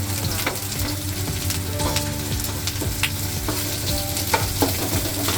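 Garlic frying in a pan while being stirred for a Japanese seafood curry: a continuous, close hiss of sizzling oil with frequent scraping stirs and small pops, no talk.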